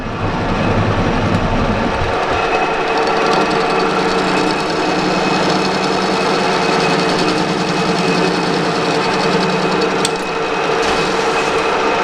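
A lathe rough-turns a worn shaft during a repair, cutting down toward a 45 mm diameter; a dense, loud, continuous machining roar runs throughout, with a faint tick near the end.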